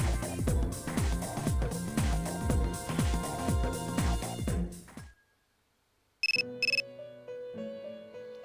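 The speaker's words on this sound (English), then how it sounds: "Your cell phone's ringing." A cell phone ringtone chimes in Persona 3 FES: after rhythmic game music stops and a moment of silence passes, bright repeating electronic ring tones start up, loud and clear.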